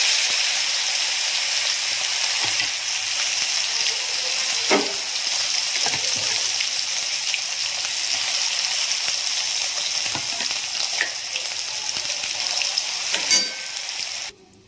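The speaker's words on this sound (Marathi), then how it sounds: "आणि आता मी टाकते हा बारीक केलेला मसाला" Ground masala sizzles in hot oil already crackling with mustard seeds and asafoetida for a mixed vegetable bhaji. A loud, constant frying hiss carries a few stir scrapes and ends abruptly, with no talk.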